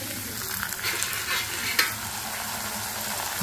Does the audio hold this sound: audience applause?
no